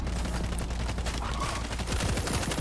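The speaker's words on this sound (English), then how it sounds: "Place the machine gun." A placed machine gun in World War Z fires in a rapid, unbroken stream of loud shots, dense and close for the whole stretch, with gunfire chatter layered underneath.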